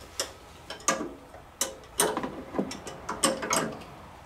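A wrench tightens a jam nut on car coilover suspension, giving a series of close, sharp metallic clicks and ratcheting ticks in irregular bursts over a few seconds, with no talking.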